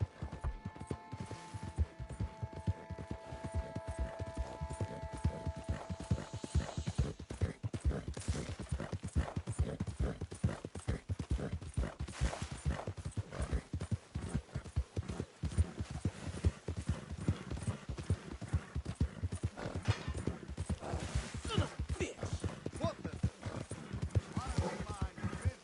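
Horse hooves clip-clop in a steady galloping rhythm throughout the Red Dead 2 video game, loud and continuous, with an occasional whinny, mechanical rattles and faint distant gunfire mixed in.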